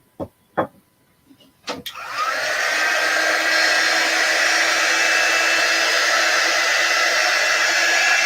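After a few faint clicks and handling noises, a hair dryer switches on and blows steadily and loudly up close, drying chalk paste on a large wooden clothespin craft.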